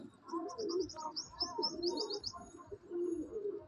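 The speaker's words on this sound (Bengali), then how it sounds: "হ্যাঁ, এটা মাদি পায়রা।" A female Madrasi pigeon in a loft gives low, rolling coos close by, while high, rapid chirps from other birds run over the first half.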